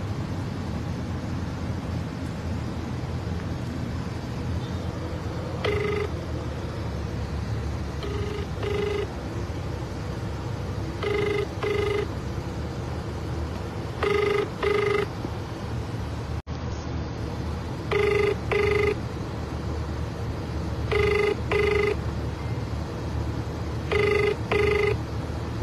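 A telephone rings in repeated bursts, each a pair of short trills separated by pauses, against a steady road and traffic rumble while a call is placed to the mayor.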